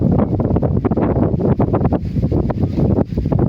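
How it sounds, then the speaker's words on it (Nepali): Cold wind straight off the Himalaya gusts continuously against the microphone, a loud, steady rush with rumbling buffets and rustling, and no voices. "यति मिठो चिसो हावा लिन चाहनुहुन्छ भने चाहिँ डाइरेक्ट हिमालको हावा"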